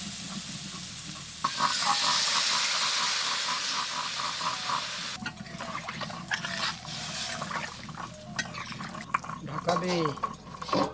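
Water poured into spices frying in a pan for a radish dal and small fish curry bursts into a loud steady sizzle, then settles into stirring and scraping, with voices talking nearby.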